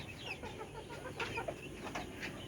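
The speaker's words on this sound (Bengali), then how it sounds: "এই যে দেশি মুরগি।" Native desi chickens cluck softly and steadily around a tin-shed poultry yard, with faint scattered calls over a continuous low background and no talking.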